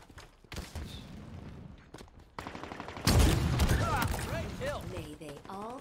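Heatwave weapon shots in Halo Infinite Capture the Flag gameplay, a few sharp, loud blasts with crackling tails, punctuated by in-game effects and warbling energy tones, with talk partly over the sounds.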